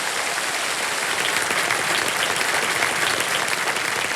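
A studio audience on the quiz show Kaun Banega Crorepati (season 17) breaks into sustained, dense applause, a steady wash of many hands clapping at once that stays loud and even throughout with no talking.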